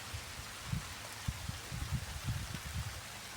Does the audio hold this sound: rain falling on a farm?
yes